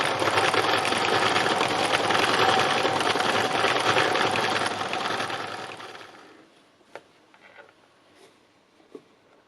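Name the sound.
sewing machine stitching along the top of an artwork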